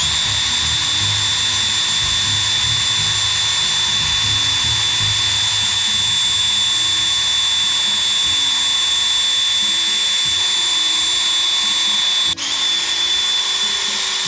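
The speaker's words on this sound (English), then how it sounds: "So I'm just gonna start spinning this and just sand it a little bit." A guitar knob spun by a power tool while sanded with 2000 grit sandpaper gives a loud, steady motor whine with a high tonal hum, continuous and close, with one brief dip near the end.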